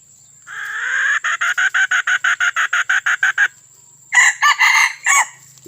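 A five-to-six-month-old rooster crows loudly and close, a long series of rapid pulsing notes followed by a shorter second burst, with no other sounds around it.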